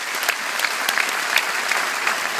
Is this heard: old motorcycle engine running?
no